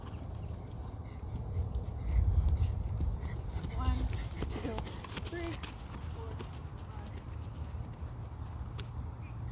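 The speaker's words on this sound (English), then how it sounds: "Keep him trotting at that pace" A horse trots along with soft, rhythmic hoof clip-clops that blend with low rumble, under quiet ambient noise.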